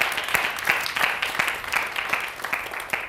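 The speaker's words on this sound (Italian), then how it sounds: "E facciamo un grandissimo applauso a Sara." Crowd applause with dense, steady clapping throughout, moderately loud and continuous, with no voices standing out.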